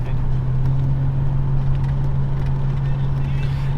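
A camper van drives back to town on the Pan-American Highway in Mexico, with a steady engine drone and road rumble heard from inside the cabin and a voice speaking over it.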